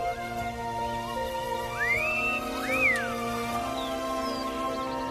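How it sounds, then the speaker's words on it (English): A person whistles two short rising-and-falling whistles in a film scene over a steady humming background, moderately loud, with no speech. "He goes outside and hears somebody whistling."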